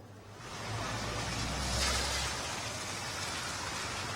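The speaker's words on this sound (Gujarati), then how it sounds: "રાજકોટમાં સતત 15 કલાકથી આ ધીમી ધારે વરસાદ છે તે વરસી રહ્યો હતો" Steady rain falls continuously in Rajkot, a soft even hiss that swells slightly midway and carries no voices.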